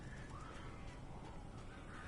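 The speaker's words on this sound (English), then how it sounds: "All these crows" Crows caw in the Alan Wake Remastered video game, a steady wash of harsh bird calls over a dense noisy background, fairly faint and continuous with no talk.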